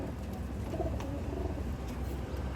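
Teddy pigeons, imported-bloodline males, coo steadily in a series of soft, throaty calls close by, with no talking over them.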